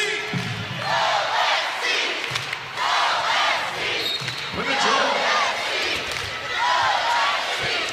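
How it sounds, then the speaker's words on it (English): A loud crowd cheers and roars in a packed arena during a women's college basketball game between USC and Iowa. The noise surges in waves, sneakers squeak on the court and a commentator talks over it. "now the crowd is really becoming a factor in this game. They're turned up. Everybody up, here we go, super loud."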